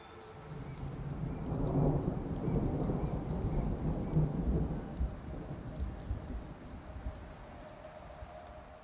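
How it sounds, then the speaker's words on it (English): A deep rolling rumble of video game thunder from Nightingale swells and fades over steady rainfall, loud and close, with the storm continuing alone afterward. "the thunder is actually driven by our music system"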